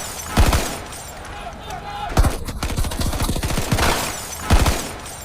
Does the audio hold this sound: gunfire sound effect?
yes